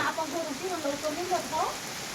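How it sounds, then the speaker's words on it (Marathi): Heavy rain pours down in a steady, broad hiss that continues without a break, while someone talks over it. "हा एक नंबर पाऊस"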